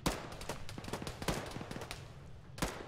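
Gunfire crackles through a firefight in Arma 3, a rapid string of sharp shots with a few louder cracks nearby and a steady rattle of more distant fire, with no voices.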